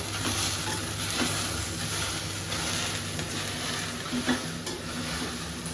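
Okra (ladies finger) frying in a pan gives a faint, even sizzle throughout, broken by occasional light stirring scrapes, close by and with no talk.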